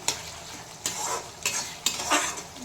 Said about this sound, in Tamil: இன்னும் கொஞ்சம் கொதிக்கணும். கொதித்து சுண்டை வரணும்.